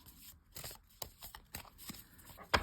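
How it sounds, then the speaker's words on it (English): A deck of oracle cards being shuffled by hand, giving a run of soft papery riffles and slaps close by, with a sharper snap near the end and no talking. "If I give it a little shuffle"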